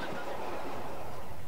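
A Victorian Railways T-class diesel locomotive runs on the mainline on a Christmas tour, giving a continuous rushing rumble of wheels and carriages with faint clickety-clack, steady and fairly loud, with no voices.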